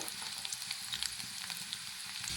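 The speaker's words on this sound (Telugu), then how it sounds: "ఆనియన్స్ మరియు రొయ్యలు చాలా బాగా వేగిపోయినవి" Prawns and onions sizzle steadily in a hot pan, a dense, even crackle of frying with no voices over it.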